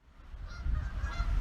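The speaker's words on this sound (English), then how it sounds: "Ah, the geese! Magnificent beasts!" Geese honking in a short, close burst, several overlapping nasal calls rising in loudness over about a second and a half, with no talking.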